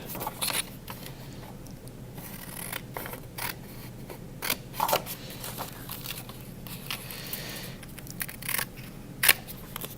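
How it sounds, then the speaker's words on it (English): Scissors snip through folded paper in a quiet room, a run of crisp cuts and rustles at close range with brief pauses, and no one speaks. "Carefully cut that out."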